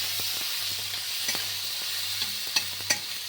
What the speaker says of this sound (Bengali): এগুলো তেলের সাথে একটু ভেজে নেব।